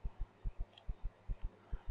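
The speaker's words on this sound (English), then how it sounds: "quit with your heartbeat puffy thing" A heartbeat effect from the space survival game Empyrion Galactic Survival pulses in low, paired thumps. The beat is steady and even, about three per second, and sits clear and close with little else behind it.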